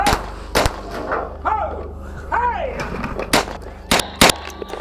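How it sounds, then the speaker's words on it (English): Sharp gunshots from an active-shooter scene crack out as several loud, separate bursts spread across the stretch, with voices and radio-like chatter running between them. "I've heard more shots go off."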